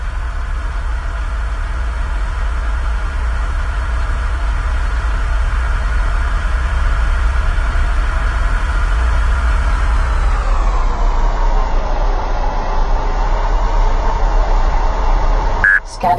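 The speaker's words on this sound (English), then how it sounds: "Engaging impulse engines." Spaceship impulse engines in the space game Starfighter Origins give a loud, steady, dense drone that holds level for most of the stretch, then slides slightly lower in pitch before a brief click near the end.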